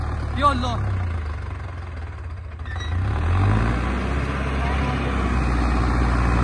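Arjun Novo 605 DI-I tractor engine held at 2000 rpm, a loud steady low-pitched diesel drone that grows heavier partway through, with someone speaking briefly over it near the start.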